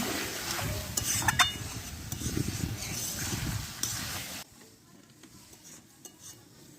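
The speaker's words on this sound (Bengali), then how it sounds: "মাটির উনুনে শাল কাঠের জালে কিন্তু মাংস রান্না হচ্ছে" Mutton curry cooking in a pot on a clay village stove over a sal wood fire, close stirring scrapes and soft sizzling with a few clinks of utensil on pot, then quieter crackle after the stirring stops.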